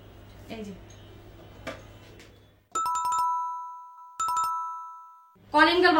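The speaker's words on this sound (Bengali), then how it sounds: "কলিং বেল বাজে, দেখ তো কে আসছে।" An electronic doorbell in a home rings twice in a bright chiming melody, each ring decaying slowly, after quiet talk and before a voice speaks again.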